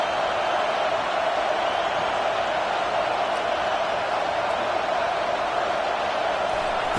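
Steady, dense stadium crowd roar with no breaks, loud and continuous, fills a College Football 25 game as fans in the Michigan stands make noise to help the defense.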